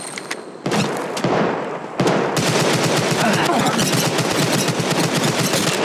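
Rapid automatic gunfire crackles from Apex Legends Mobile, the video game. Dense bursts follow a short pause, then a nearly continuous stream of loud shots with no talk.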